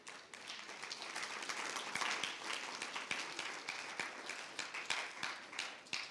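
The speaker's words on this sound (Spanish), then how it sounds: "Denle una ofrenda de palmas al Señor." A church congregation applauds at a Wednesday general service, sustained dense clapping for about six seconds at steady loudness with no speech over it.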